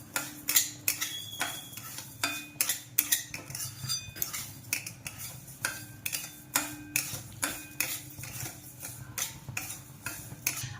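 Melting jaggery is stirred constantly in a pan for sesame sweets, making a steady run of close, sharp metallic scrapes and taps in a regular rhythm, with no talking.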